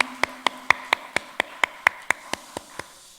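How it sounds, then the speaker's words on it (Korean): A Korean church congregation at a Sunday worship service claps in unison: about a dozen crisp, evenly spaced claps ring out in a steady rhythm, then fade slightly at the end, with no talking. "박수로 하나님께 영광 돌리겠습니다."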